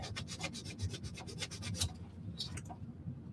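Rapid, rhythmic scratchy rubbing of sandpaper against wood, close up, with a brief pause before a few final strokes.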